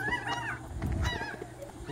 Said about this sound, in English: Just birds being birds.